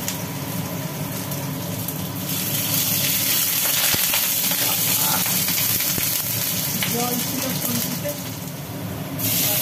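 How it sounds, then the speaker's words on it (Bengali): Cut potatoes frying in hot oil in a home kitchen, giving a steady broadband sizzle that holds for the whole stretch and swells louder after the first couple of seconds, with no talk over it. "তেলের ওপরে কেটে রাখা আলুগুলো ফেলা হলো। আলুগুলোকে এখন ভাজা হবে।"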